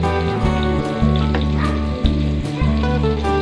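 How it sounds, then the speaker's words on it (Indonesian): Shallots, garlic and chili frying in a pan for stir-fried squid, a steady, close, unbroken sizzle over a low humming background that holds throughout. "bumbu-bumbunya itu yang perlu digoreng itu bumbu bawang merah, bawang putih, cabai"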